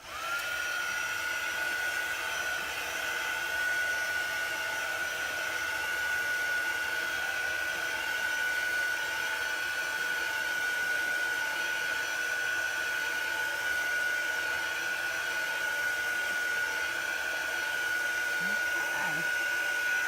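A hair dryer blows steadily to dry a Chalk Couture chalk transfer screen, running as a loud, continuous whine and airy rush for the full twenty seconds with no break.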